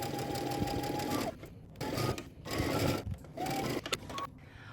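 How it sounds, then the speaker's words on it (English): Sewing machine running in several bursts, stitching a dress seam at 5/8 inch seam allowance with pauses between runs; close, steady motor whir with rapid needle clatter, no talking. "And then we're going to stitch again using 5/8 of an inch seam allowance."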